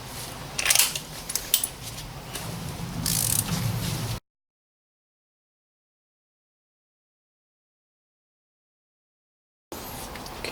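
Ratchet loosening the oil filter housing cover on a 2002 W208 Mercedes CLK230, a run of metallic clicking and mechanical rattles up close, then a long stretch of silence before brief noise resumes.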